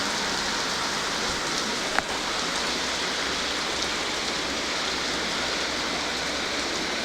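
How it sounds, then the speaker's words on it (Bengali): Heavy morning monsoon rain pours down without a break, a dense, loud, even hiss of drops striking surfaces that fills the whole stretch with no voices. "কত জোর বৃষ্টি হচ্ছে দেখো"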